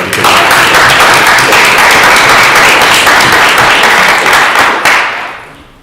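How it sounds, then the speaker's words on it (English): Sustained, dense applause from a conference audience for a tech panel at LambdaConf 2016, loud and steady throughout before tapering off near the end, with no talking over it. "let's just give a round of applause for our other panelists"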